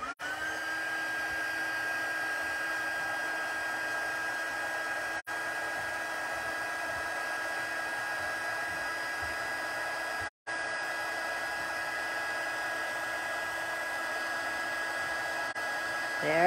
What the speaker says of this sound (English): And we are just going to use the heat tool on its highest setting.